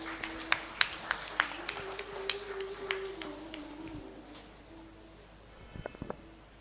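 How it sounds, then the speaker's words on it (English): Scattered applause from a small conference audience at the 3rd IAPSMCON 2023 memento presentation, a handful of distinct claps in the first few seconds fading out, faint and somewhat distant over a steady hum and room noise. "we have a round of applause, please?"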